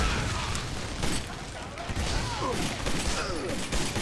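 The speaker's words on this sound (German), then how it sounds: "Wir werfen einfach mal die Granate." A grenade explosion in Army of Two: The Devil's Cartel rumbles amid sustained battle noise and scattered gunfire, dense and loud throughout, with a voice talking over it.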